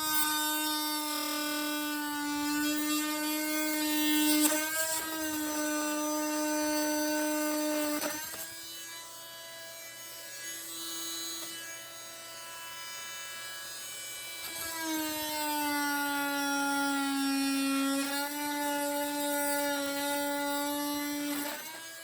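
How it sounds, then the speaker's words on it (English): A vacuum runs with a steady, loud tonal drone while plaster is cut with a saw rocked back and forth. The whine shifts in pitch several times as the cut progresses. "Rock the saw back and forth a little bit as you make your cut."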